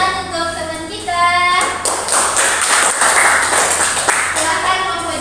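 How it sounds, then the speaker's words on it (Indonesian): Classmates in an Indonesian language class clap for a peer after a presentation, a burst of close hand clapping with a voice speaking just before and after it. "Wow, beri tepuk tangan untuk teman kita."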